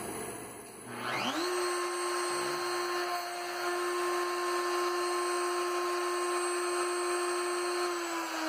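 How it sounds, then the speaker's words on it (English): CNC router on a homemade plywood machine spinning up from a brief quiet into a steady high whine that holds alone and unchanging, close and moderately loud. "So start the router."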